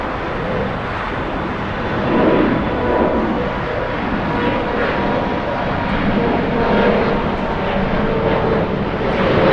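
A LATAM Boeing 767 freighter arrives at LAX airport, its jet engines producing a loud, continuous broadband roar that swells and holds steady throughout with no voices.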